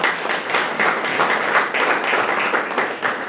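Applause fills the room at the opening of an architecture exhibition for a new swimming pool design, a dense, steady round of clapping from a crowd lasting the whole stretch, loud and close.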